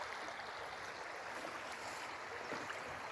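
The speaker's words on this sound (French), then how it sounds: "Je vais m'approcher en essayant de ne pas tomber dedans pour que vous entendiez encore mieux le bruit des rochers." River water rushing over rocks, a steady, dense flowing roar close by, with no pauses and no voices.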